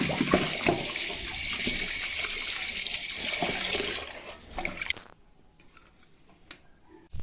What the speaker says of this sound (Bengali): তো চলো মাছটা ভালো করে ধুয়ে নিই